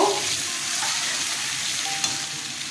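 Ginger, chili and tomato fry in a hot pan for a soybean and potato curry, giving a continuous, close sizzle with a soft hiss throughout and an occasional light clink of stirring, no voices.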